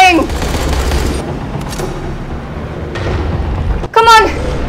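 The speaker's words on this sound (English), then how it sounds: "Is my SMG really that weak?" Rapid SMG gunfire from Dying Light: The Following, a dense sustained burst of shots with a heavy low rumble running through the whole stretch, while a voice shouts over it near the start and again near the end.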